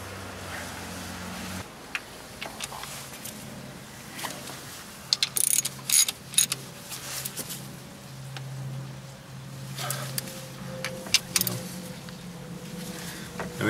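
A ratchet tightens a bolt on a 1991 Mazda Miata MX-5 engine during temperature sensor work, giving scattered bursts of faint metallic clicks over a quiet background hum.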